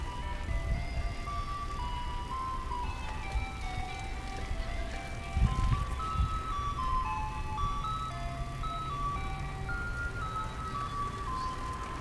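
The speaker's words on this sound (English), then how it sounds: "The ice cream truck came." Ice cream truck playing its tinkly melodic jingle from some distance, repeating notes drifting over a low outdoor rumble with no voices.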